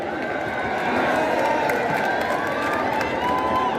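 A huge crowd at an outdoor BSP political rally addressed by Mayawati, producing a constant, loud roar of cheering voices that stays unbroken throughout.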